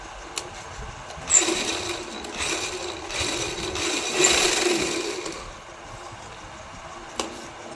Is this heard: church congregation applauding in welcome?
no